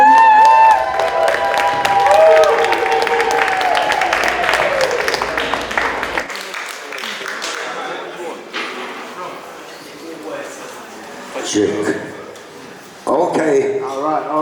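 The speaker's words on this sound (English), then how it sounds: "one more round of applause for Tafari Love Muzic" An audience at a talk event on Black British soundsystem culture in Brighton claps and cheers in a loud, dense burst that fades after several seconds, then a voice speaks over scattered sounds.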